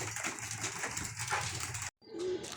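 A racing pigeon that has come back home after two weeks away coos softly and steadily up close. There is a brief silent gap, and then a short low coo follows it.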